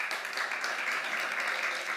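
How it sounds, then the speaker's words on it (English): Conference audience at a climate summit pavilion applauding panelists, a steady wash of many hands clapping at moderate distance, even and sustained with no talk over it. "Please give them a round of applause."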